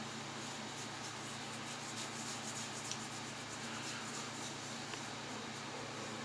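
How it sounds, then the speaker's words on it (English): A shaving brush is worked against a cube of pre-shave soap, giving a soft, continuous rubbing and swishing close by with no talking. "Work the cube pre-shave soap into the bristles."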